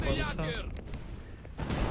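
Cannons firing bombs during a naval battle in The Pirate: Caribbean Hunt video game: loud, broadband blasts and rumbling bursts across the clip, mixed with other game noise.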